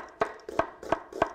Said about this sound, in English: And I'm going to chop this onion